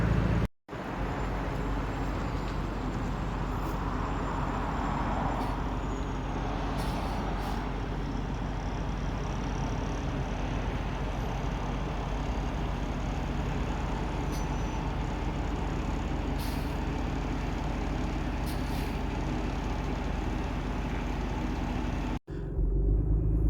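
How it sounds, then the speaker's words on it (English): A large tow truck's engine idles with a steady low rumble, continuous and fairly quiet, with a brief break near the start and end. "The big tow truck is on the scene finally."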